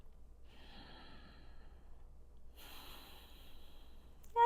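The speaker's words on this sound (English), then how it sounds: "One more breath." Deep, slow breathing during a yoga exercise: a long airy inhale followed by a fuller exhale, close and quiet with no talking.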